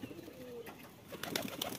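Domestic pigeons kept as pets coo softly on a cold night, a few low murmuring calls against faint rustling and background noise.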